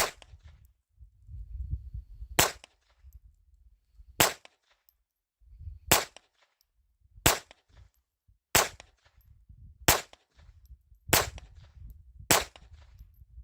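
Colt Woodsman pistol fired semi-rapid at a target seven yards away, eight sharp, loud cracks spaced about one to two seconds apart, with quiet handling rustle between shots.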